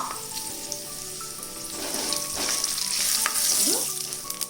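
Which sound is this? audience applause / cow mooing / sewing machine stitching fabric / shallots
shallots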